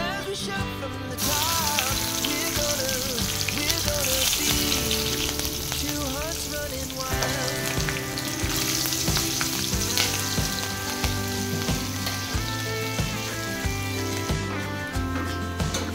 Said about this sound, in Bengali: এখন তেলের মধ্যে কালো জিরা ফোড়ন দিয়ে দিচ্ছি, তার সাথে 2টা কাঁচা লঙ্কা চিড়ে দিয়ে দিচ্ছি।